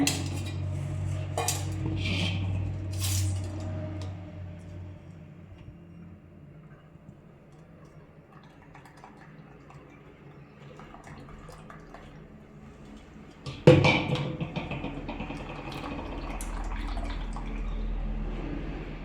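ABC juice is strained through a filter and poured. Clinks of a vessel and utensils come first, then a quiet stretch of soft trickling, and a sudden clatter leads into a steadier pour. No one speaks.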